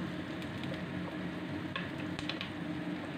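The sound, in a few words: stirring garlic frying in a pan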